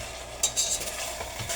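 A whole chicken being stirred as it fries in a pan for curry, giving a steady sizzle with a few close scraping stirs and light clatter, no voices.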